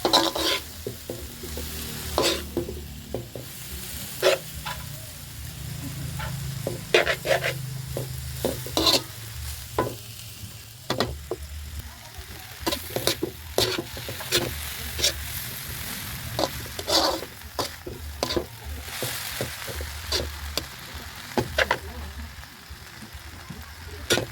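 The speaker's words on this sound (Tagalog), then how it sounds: "haluin po natin" Pancit noodles frying in a pan and being stirred, with repeated sharp scrapes and clacks of a utensil over a continuous sizzle, close and fairly loud, with a faint engine-like hum underneath.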